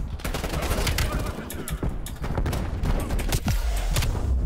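Rapid automatic gunfire in the Cold War video game campaign, dense loud bursts of shots that fill the short stretch, with a player's voice faintly underneath.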